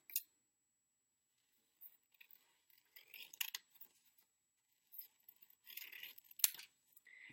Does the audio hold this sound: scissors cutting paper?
yes